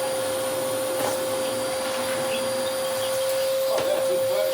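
A restored Electrolux Mondo Z1190e vacuum cleaner runs with a steady, loud, continuous motor whine and a constant tonal hum, heard up close and alone throughout.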